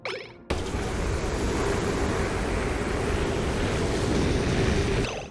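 A steam-venting rocket launch in the game Oxygen Not Included: after a brief quiet start, a sudden loud, dense roar of rushing steam and noise swells in and holds steady for about five seconds before cutting off, with no talk.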